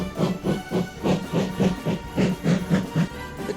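Steam locomotive chuffing in a steady, rhythmic beat of about three puffs per second with hissing steam, close and continuous, no voices.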